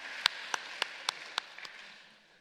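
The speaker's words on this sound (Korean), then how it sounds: "하나님께 영광의 박수 올려드립니다." A few people in a Sunday worship service give applause to God, six sharp, evenly spaced claps that sound faint and distant in an otherwise quiet room.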